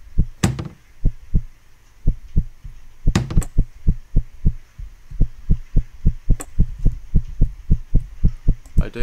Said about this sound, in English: Why is my heartbeat getting faster?